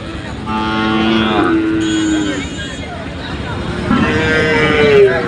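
Bulls low in long, loud moos, one after another, at a cattle market, with a busy crowd murmuring and talking in the background.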